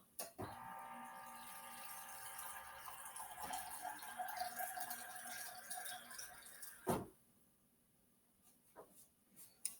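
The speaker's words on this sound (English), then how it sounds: "I'm going to get cold water from the dispenser from my refrigerator and measure out 3/4 cup" Cold water runs from a refrigerator door dispenser into a measuring cup in a steady, fairly quiet stream that stops abruptly, followed by a few faint clinks and taps.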